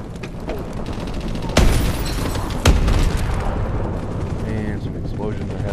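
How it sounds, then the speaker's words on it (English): Video game explosions in the first-person military shooter Advanced Warfare, two heavy booms standing out over continuous gunfire and battle noise, loud and close, with a player's voice talking over the action. "explosions are happening over here"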